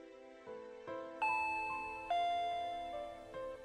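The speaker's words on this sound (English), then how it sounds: "Just then, we heard the chime go ding-dong." A doorbell chime from the Higurashi When They Cry Hou video game rings out in a clean series of sustained tonal notes, each one struck and then slowly decaying, with nothing else heard.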